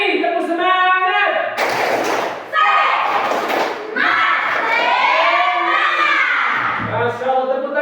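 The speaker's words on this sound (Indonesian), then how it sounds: "Tepuk semangat." A classroom of children bursts into a loud, rhythmic spirit clap, the 'tepuk semangat' cheer, with quick claps and shouted voices, after and before a teacher's spoken lead-in.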